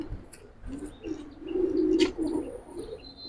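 A pigeon from a Giribaz fancy-pigeon collection gives a low, soft rolling coo at close range, one drawn-out call swelling in the middle, with faint chirps and rustles around it.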